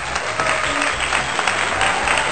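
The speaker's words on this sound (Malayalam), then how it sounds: "രണ്ടാൾക്ക് ഒരു ക്ലാപ്പ്." A short burst of hand clapping celebrates two people who finished a mega chicken biriyani eating challenge. The applause is dense and fairly close, and it continues steadily for a couple of seconds.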